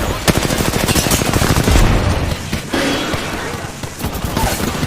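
Video game gunfire erupts in a rapid, loud burst of automatic shots and overlapping volleys, close and continuous for several seconds, with a brief heavier thump in the middle.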